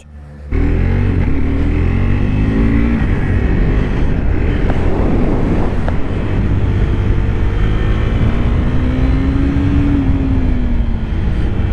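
A 2022 KTM RC 390 single-cylinder motorcycle engine roars loudly and continuously on a race track, heard close from the rider's position with wind noise, its pitch rising and falling through gear changes and corners.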